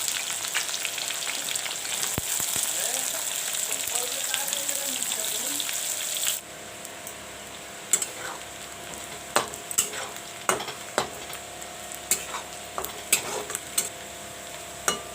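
Sliced onion frying in hot oil for an egg curry gives a steady, bright sizzle that drops to a quieter crackle partway through, with scattered clicks and stirring taps close by.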